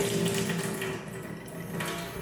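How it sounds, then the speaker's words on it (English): Water runs steadily from the tap of an Enagic water ionizer as the faucet is opened, a continuous close splashing flow with no talking. "I'm taking pH 6 and I'm going to be opening the faucet."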